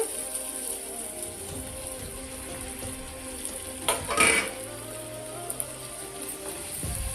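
Mushrooms drop into hot oil for a mushroom curry and fry with a steady, rain-like sizzle, broken by a brief louder clatter from stirring midway through.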